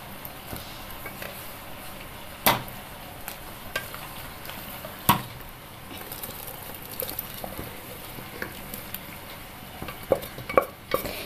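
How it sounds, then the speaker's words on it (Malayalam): Potato and mixed vegetables go into a pot of boiling second-extract coconut milk for a Kerala-style curry and are stirred, giving a soft, steady bubbling with sparse spoon and pot clicks, quiet and close. "അതിലേക്ക് നമുക്ക് വെജിറ്റബിൾസ് ഇട്ട് കൊടുക്കാം."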